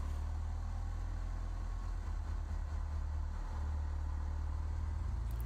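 An aircraft engine in Microsoft Flight Simulator X runs with a steady, low droning hum that stays even and fairly quiet throughout, with no voices.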